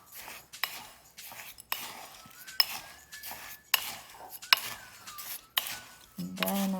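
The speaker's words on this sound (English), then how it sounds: "So first I'm going to mix it with the spoon." A spoon scrapes and clinks against a glass container while stirring bath salts: irregular bursts of clatter and grinding with short pauses between, fairly soft and close, ending in a ringing tap on the glass.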